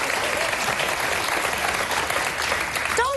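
Studio audience applauding on a daytime TV talk show, a dense steady wash of clapping at constant loudness throughout, with a brief voice rising at the very end.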